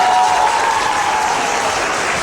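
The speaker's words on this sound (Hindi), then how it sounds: "तालियां।" A studio audience on a morning talk show applauds, a dense, loud, steady wash of clapping from many hands for a couple of seconds.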